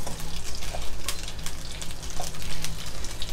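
Hong Kong kale stir-fried in a very hot wok: a steady, loud sizzle and hiss with faint scraping and stirring, continuing without a break.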